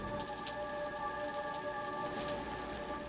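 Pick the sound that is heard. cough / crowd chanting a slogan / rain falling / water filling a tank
rain falling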